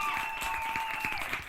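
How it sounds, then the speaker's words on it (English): Applause from a live studio audience greeting a craft show guest, steady dense clapping with some cheering, fairly soft and continuous throughout. "the crowd went crazy, and there was clapping and much joy"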